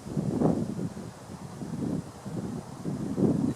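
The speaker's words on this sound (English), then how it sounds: "the wind is picked up quite a bit" Outdoor wind buffets the microphone with low, uneven rumbling gusts through the whole stretch, swelling near the start and end, with no voices, during an air rifle pellet test at a 30 meter range over grass.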